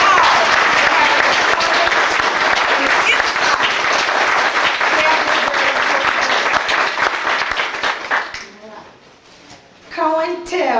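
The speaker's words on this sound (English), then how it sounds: "Let's all give her a big round of applause." Audience applause for a congresswoman at a congressional hearing on political prisoners, a loud sustained roar of clapping that thins out near the end, followed by a voice beginning to speak.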